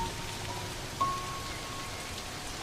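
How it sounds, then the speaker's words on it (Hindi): A sudden heavy downpour in the Serengeti hissing on a surface, a dense even wash of noise with no voices, and a brief faint tone near the middle. "इस तरह अचानक मूसलाधार बारिश होना अजीब है"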